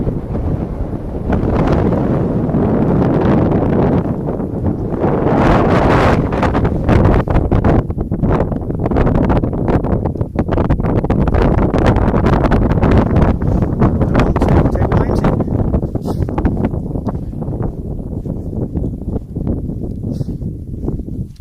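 Strong wind roars steadily across a mountain ridge in the Black Mountains, buffeting the microphone with a loud, continuous rumble and gusty surges throughout, with no voices.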